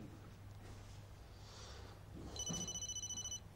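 A phone starts ringing with an incoming video call, a short electronic ringtone pulsing quietly over a faint low room hum.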